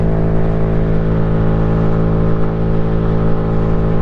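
A 2022 CF Moto Papio 125cc six-speed mini motorcycle engine running steadily, a loud, close, even hum with a strong buzzing drone that holds unchanged throughout, no voices.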